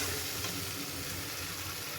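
Bengali mustard-style spice paste frying in oil in a pan for a fish curry, a dense, steady close-up sizzle with no talking.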